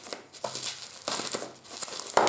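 Thin plastic foil wrapping on a film mediabook edition is handled and torn open, giving close, crisp crinkling and tearing bursts in several quick rustles.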